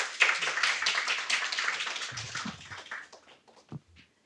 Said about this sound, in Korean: 저희 큰 박수로 교수님 자리에 모시도록 하겠습니다.